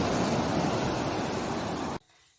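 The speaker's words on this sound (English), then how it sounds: "South Beach overlooks the Atlantic Ocean, a golden sand beach, and a 250-foot boardwalk." Atlantic Ocean surf breaking on the golden sand of South Beach on Florida's Treasure Coast, a steady broadband roar of waves and wind that cuts off abruptly near the end, leaving quiet.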